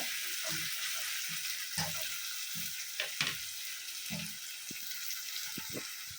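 Tomatoes sautéing in a pan as the base for a fish curry, a close, continuous sizzle broken by quick scraping stirs and light clinks of the spoon.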